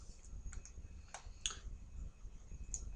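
Faint, sparse keystrokes on a computer keyboard, a few scattered clicks and taps over quiet background hum, typing a search into a browser.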